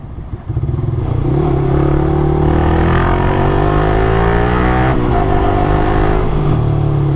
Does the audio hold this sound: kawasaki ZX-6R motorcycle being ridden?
yes